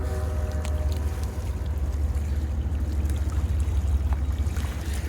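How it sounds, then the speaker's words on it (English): Steady broadband rushing of the New River flowing past its banks near a railroad trestle in Prince, West Virginia, a continuous close wash of moving water with a strong low rumble and no talking. "It's a beautiful location here on the banks of the New River."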